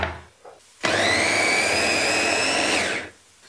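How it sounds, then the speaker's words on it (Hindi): Tomatoes whirring in an electric chopper, one loud, steady motor burst of about two seconds that starts sharply and winds down, with quiet pauses before and after. "और टमाटर को भी डाल देंगे चॉपर में"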